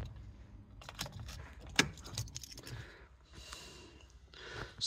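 A Nissan Qashqai flip key with a flip-out blade jangles and clicks as it is handled up close, with a sharp metallic snap near the middle amid soft rustling.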